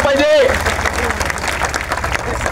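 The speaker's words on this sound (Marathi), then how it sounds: "जोरदार टाळ्या झाल्या पाहिजे." Loud applause from the audience at a public gathering, dense clapping filling the whole stretch, with a brief whistle-like tone at the start.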